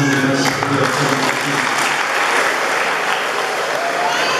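An audience at a monthly gospel worship concert applauds loudly and continuously, a dense wash of clapping from a large crowd that fills the hall throughout.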